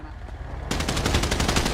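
Rapid automatic gunfire in a multiplayer shooter game fight outside a gang house, a dense steady burst of shots starting abruptly after a quiet moment and continuing loud to the end.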